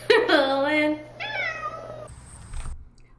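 A cat gives two drawn-out, rising-and-falling meows, close and fairly loud, the second a little softer, followed by a brief high tone and a few faint scuffs.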